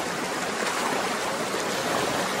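Clear river water flowing in a stream makes a loud, continuous rushing wash with no breaks and no voices.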